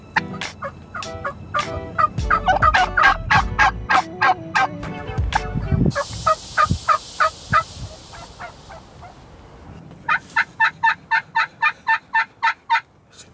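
Wild turkey hen yelping and clucking near decoys in a spring hunting setting, loud close bursts of rapid raspy calls, pausing briefly, then resuming in an even, steady series.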